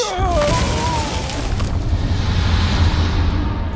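A loud booming spore explosion in Hearthstone bursts at the start, followed by a sustained low rumble with bright whistling tones fading over it.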